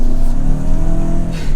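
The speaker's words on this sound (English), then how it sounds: "But testing out the turbo engine," A Hyundai Santa Fe with a turbo engine accelerates hard, its engine note rising loud and close with a steady throaty drone and a brief whoosh near the end, no talking.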